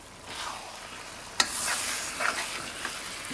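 Ripe vine tomatoes hit a pan of frying onion curry with a sharp sizzle, followed by a steady hiss and soft stirring scrapes of the cooking sauce.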